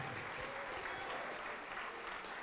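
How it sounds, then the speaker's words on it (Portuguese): Church congregation applauding during a Brazilian evangelical service, a continuous wash of clapping heard at a distance, soft and diffuse. "vamos aplaudir mais ao nome de Jesus"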